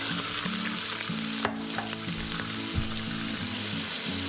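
Bite-size chicken thigh pieces fry in hot oil in an Instant Pot with a constant busy sizzle, over a low droning hum and a few sharp clicks and clanks.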